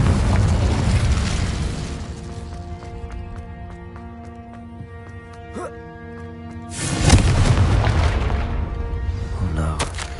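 Incendio fire spell cast in a Harry Potter game, a sudden loud whoosh and burst that falls into a ringing, harmonic drone, then a second roaring flare-up near the end.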